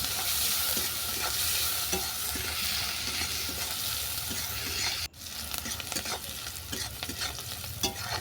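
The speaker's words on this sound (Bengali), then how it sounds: "কুচানো পেঁয়াজ দিয়ে হালকা বাদামি করে বা নরম করে ভেজে নিচ্ছি।" Chopped onions fry steadily in hot oil until soft and light brown, a continuous close sizzle with occasional stirring scrapes and clicks, a brief dip midway before the frying resumes.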